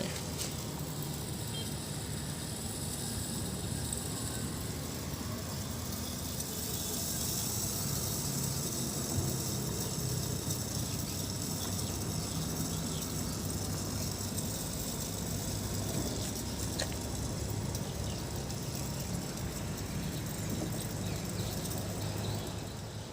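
A small electric water pump runs steadily for a long stretch while water is drawn to clean a tank, giving a constant, fairly faint hum and hiss with no talk over it.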